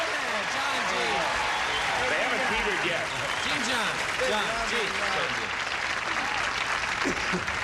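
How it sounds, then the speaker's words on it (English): A studio audience at a 1984 television game show claps steadily to greet the celebrity stars, a dense sustained round with voices talking over it throughout. "would you join John and me in greeting our stars here with a big, rousing round of applause"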